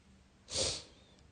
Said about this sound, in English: I'm sorry guys for the sniffles and the craggly voice.